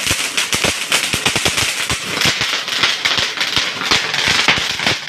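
Diwali firecrackers in Tamil Nadu burst in a rapid, loud chain of sharp bangs and crackles, going off in quick irregular succession for several seconds with no voices.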